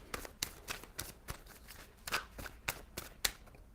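Tarot card deck being shuffled by hand, a rapid series of crisp riffling flutters and soft slaps in an irregular rhythm, close and fairly quiet with no talking.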